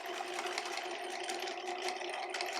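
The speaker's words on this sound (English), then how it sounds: "I'm currently going to sew around the pocket edges and serge them" A sewing machine stitches around the pocket edges of pants, a steady fast mechanical whir with a fine rhythmic clatter, heard close but at modest level without talk.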